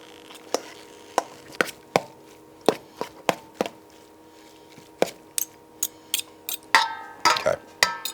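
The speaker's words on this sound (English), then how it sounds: "What we're gonna do is we're gonna chop this up for a second so you can see it." Knife chopping cooked birria meat on a cutting board in a home kitchen: a series of sharp, close thuds at irregular intervals, speeding into a quick flurry of cuts near the end, with no talking.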